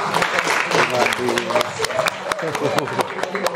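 Seminar attendees applaud together at the close of a sociology proposal seminar, a dense burst of close hand clapping that continues steadily with sharp individual claps, voices mixed in beneath.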